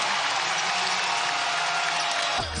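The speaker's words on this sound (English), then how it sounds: "This crowd for Marquette is going wild." A basketball arena crowd roars for Marquette in a game against UCLA, a dense, sustained wash of cheering and applause that stays loud and even throughout.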